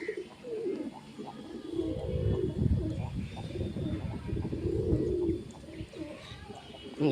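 A pigeon coos to its mate, bowing its head as it calls: soft, throaty rolling coos repeated in two or three drawn-out phrases, close by, over faint outdoor background.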